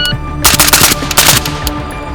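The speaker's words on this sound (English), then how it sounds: "I'm gonna run a few more bill drills here." A 300 Blackout rifle fires a rapid string of loud, closely spaced shots during a bill drill, ringing out near and alone without any talk.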